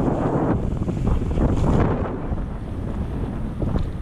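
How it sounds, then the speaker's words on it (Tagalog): Strong wind buffets a microphone during a bike ride near a wind farm in Riyadh, a loud, close, continuous low rumble with gusty swells and no speech. "nasalubong na naman ng hangin"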